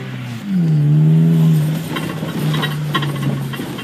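A 2002 Honda Civic Si engine revs up and holds a steady tone, followed by rougher, fluttering road and engine noise as the car keeps driving.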